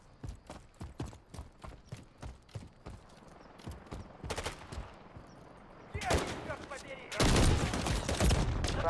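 Rapid gunfire in the shooter game Modern Warfare III: sharp separate shots at first, then louder sustained bursts and a dense roar of automatic fire near the end, with no talking.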